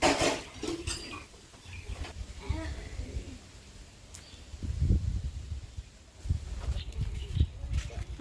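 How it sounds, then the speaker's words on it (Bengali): A small child playing alone with toy cooking pots and utensils, irregular light metallic clinks and taps near and far, with an adult voice talking over parts of it. "আমাদের সোনা বাবা খেলতেছে একা একা দেখো রান্নাবাটি খেলতেছে"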